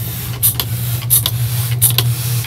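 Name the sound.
spray bottle misting seed-sowing soil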